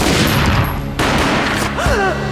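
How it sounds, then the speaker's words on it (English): A single loud gunshot boom in the Max Payne video game, played in first person, bursting over dense ambient game sound, followed by a short low thud and a few warbling tonal effects. "A gunshot boomed and she fell down in slow motion."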